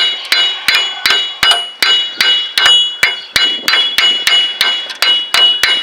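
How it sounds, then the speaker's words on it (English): Loud, evenly spaced metallic hammer strikes on a Chevy S-10 axle, about three per second, each ringing briefly before the next blow, close up with no talking. "Take your hammer and tap on this axle until make sure it's free and loose."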